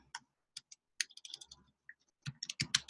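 Tapping on a computer keyboard while entering words and hashtags into a tweet: irregular bursts of quick, close key clicks with short pauses between them, ending in a denser flurry, with no one speaking.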